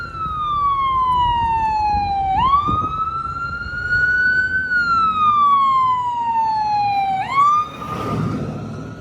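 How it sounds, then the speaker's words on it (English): An ambulance siren approaching a train derailment site on Main Street in Williamsburg, Ohio, wailing loudly in long rising and falling sweeps with a brief yelp burst near the end, over steady traffic rumble. "We got the ambulance coming."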